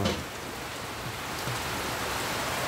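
Steady, heavy rain pours down in a dense, continuous wash, with a gusty rush of wind mixed in, on a boulevard in Molo, Iloilo City; no one speaks.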